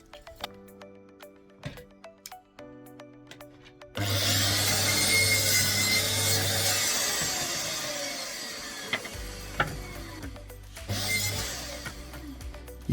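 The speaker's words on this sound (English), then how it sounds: "let's cut 12 slats nice and quick" A power saw cuts pallet wood slats in a workshop, with a loud sustained whine and rasp through the wood for several seconds, preceded and followed by quieter clunks and handling knocks.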